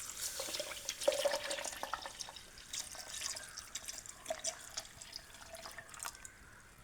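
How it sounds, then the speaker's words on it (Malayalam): Milk poured from a carton into a blender jar for a Munch chocolate shake, a soft, steady liquid trickle with faint drips, close and quiet, with no talking. "നമ്മളിനി ഒഴിക്കാൻ പോകണമെന്ന് പാലാണ്."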